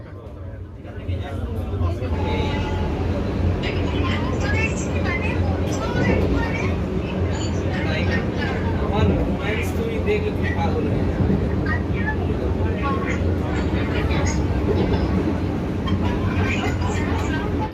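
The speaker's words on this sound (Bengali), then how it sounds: "ট্রেন আমাদের ঢুকছে বন্ধুরা ব্যান্ডেল জাংশন" Loud, continuous rumble of a Howrah–Kamakhya sleeper Vande Bharat train running on rails near Bandel Junction, heavy low clatter and rolling noise throughout, with faint voices murmuring underneath.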